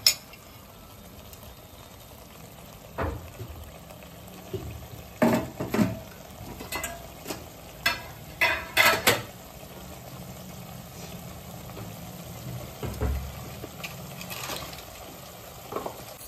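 Pav bhaji vegetables and masala sautéing in oil, with a low steady sizzle and intermittent scraping stir strokes of a spatula against the pan, clustered mid-clip and then easing off.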